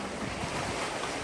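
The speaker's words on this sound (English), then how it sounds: "I'm just flying downwind super fast." A solo sailboat running fast downwind, with loud continuous broadband rush of wind, waves and water against the hull, steady and close throughout with no voices.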